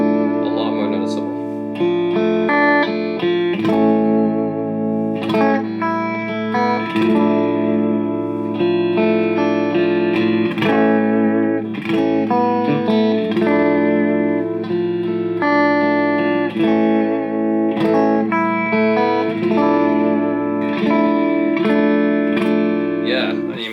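Electric guitar with reverb, run through the effects loop of a Supro 1968RK Keeley Custom 12 amp, plays sustained chords and ringing notes, loud and continuous with long decaying tails.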